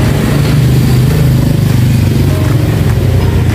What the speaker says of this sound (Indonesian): Mbak Anis lagi mengeluarkan motor.